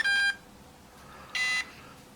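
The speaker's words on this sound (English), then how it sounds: "we're going to wait for 10 beeps." An electronic speed controller for an RC surfer sounds its shutdown beeps: two short, bright, steady electronic tones separated by a quiet pause, clear and close with no talk.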